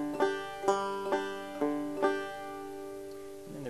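Bluegrass banjo played with the pinch technique: about five bright plucked chords ring out at a relaxed, even pace, each decaying before the next, followed by one sustained final note, close and solo with no talking.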